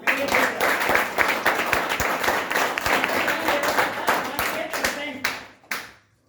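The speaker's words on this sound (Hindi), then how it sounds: "वेस्टी के एक बार जोरदार तालियां" Loud, dense clapping from a large audience at a school achievers' event, sustained for about five seconds before quickly fading out.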